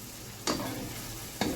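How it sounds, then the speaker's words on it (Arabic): Minced meat fries in a pan, a close, steady sizzle broken by two sharp scraping stirs about a second apart, no talking. "تاخذوا هيك لقمه من اللحمه وهي عم تتقلى"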